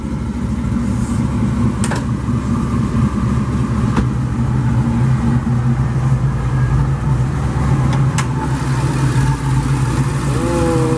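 A muscle car, likely a 2020 Chevy Camaro ZL1 or 2018 Charger SRT 392, runs with a deep, loud, rumbling engine note that stays steady throughout, with mild rises in revs and a few sharp clicks.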